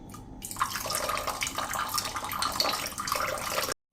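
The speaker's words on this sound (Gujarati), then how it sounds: "હવે ઉપરથી આપણે ઠંડુ ઠંડુ પાણી રેડી દેશું." Cold water poured from above into a glass holding a spoonful of mango pulp for a homemade mango drink. A steady, close splashing pour runs about three seconds and then stops abruptly, with no talking.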